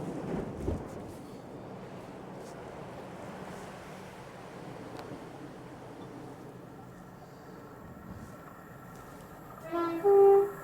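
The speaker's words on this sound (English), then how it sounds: "hear a happy train making its way" A train running along the sea wall at Dawlish, a steady low rumble mixed with surf and wind noise that swells briefly near the end, moderately distant with no talk.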